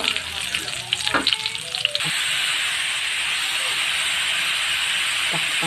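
Garlic and onions sizzle loudly in a hot pan, a steady crackling hiss that jumps in level as they hit the oil and then holds on evenly, with a few clanks and stirring sounds at first.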